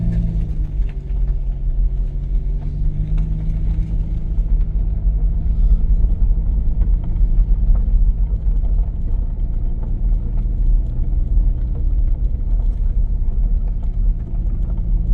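A car driving slowly in circles around a site with a rare 2-foot-gauge railroad, heard from inside as a steady low engine and road rumble that runs continuously and evenly throughout, with no talking.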